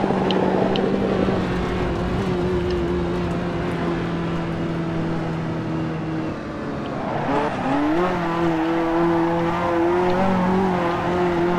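A Ferrari 288 GTO or F40 turbo engine drones at steady revs while drifting, dips, then climbs again as the turbo spools up, loud and close without talk.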